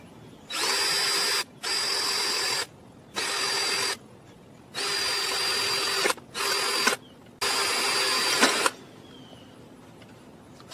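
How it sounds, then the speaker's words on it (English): A power drill bores a hole through metal with a small bit while making a propane burner part, running in six loud bursts of steady whine separated by short pauses, alone with no talk. "Small enough that it won't take forever to drill."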